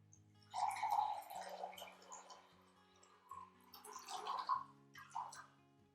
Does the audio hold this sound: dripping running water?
yes